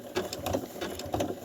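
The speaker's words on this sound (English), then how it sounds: "So I'm just going to sew to the end, just nice and slowly." A sewing machine stitches slowly and quietly along narrow binding, its needle clattering in a soft, even mechanical rhythm.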